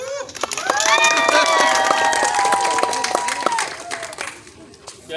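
An audience at an alligator show claps and cheers in a steady crowd wash, with a handler's voice and sharp whistling or shouting laid over it.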